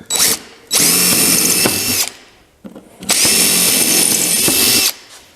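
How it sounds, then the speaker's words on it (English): A power drill whines loudly in two long bursts, each about one and a half seconds, separated by a brief pause, biting steadily into wood. "now I have to drill through the box on the other side."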